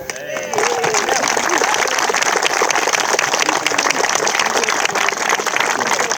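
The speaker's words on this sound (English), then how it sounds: "we should all have a massive round of applause for the fact that Inglis Bridge is finally open" A crowd gathered at Vauxhall Fields, Monmouth, claps loudly and continuously to celebrate the reopening of the Inglis Bridge, a dense outdoor wash of hands that holds steady for several seconds.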